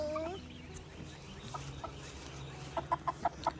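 Chickens on a small farm cluck in a short burst of quick, sharp calls near the end, after a stretch of quiet background noise and faint murmuring.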